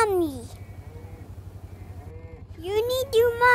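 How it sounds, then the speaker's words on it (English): A baby cow calf calls out with a drawn-out bleating cry at the start and again near the end, close and loud, with a steady low hum running underneath. "Hello baby cow. Hi baby cow."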